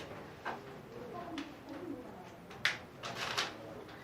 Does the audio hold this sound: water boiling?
no